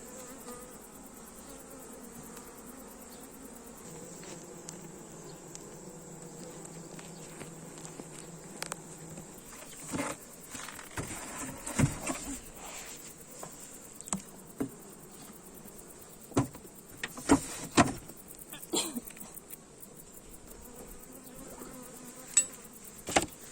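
Bees hum steadily during routine hive care, a continuous insect drone with intermittent close knocks and handling clatter from the frames.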